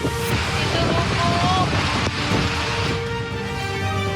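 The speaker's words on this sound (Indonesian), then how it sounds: "hujan deras disertai angin kencang menerjang pelabuhan Merak Cilegon, Banten" Strong storm wind roars steadily with surf and waves churning beneath at Merak harbour, Banten, amid heavy rain, a loud continuous outdoor wash with gusty noise throughout.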